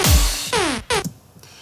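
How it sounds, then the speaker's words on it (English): A laser-like synth effect chopped by a Gross Beat stutter in a complextro track, loud zapping bursts with rapidly falling pitch that cut off abruptly twice before fading to a quiet tail. "what it's also affecting is this laser effect that you sort of hear in the background"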